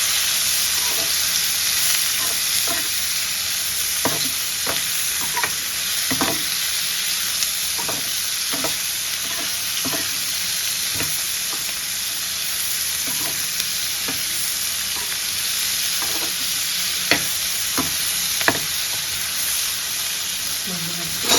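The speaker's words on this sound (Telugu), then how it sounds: "అదిగో చూడండి, మన క్యాప్సికమ్స్ అయితే బాగా వేగుతున్నాయి." Capsicum pieces fry steadily in a pan for pickle, a constant bright sizzle running throughout with scattered spoon scrapes and stirring knocks, close and fairly loud, no talking.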